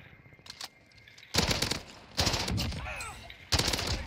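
Gunfire in the video game Call of Duty Warzone sounds as sharp bursts of automatic fire, four close, loud volleys separated by brief pauses, with a faint voice in between.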